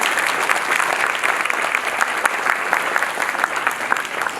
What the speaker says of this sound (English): We need to give a round of applause again.